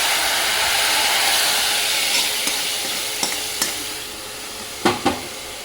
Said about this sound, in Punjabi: ਇਹਨੂੰ ਕੜਛੀ ਨੂੰ ਹਿਲਾਉਂਦੇ ਹੀ ਰਹਿਣਾ ਆਪਾਂ ਇਹਨੂੰ ਘੱਟ ਸੇਕਦੇ ਹਿਲਾਉਂਦੇ ਰਹੋ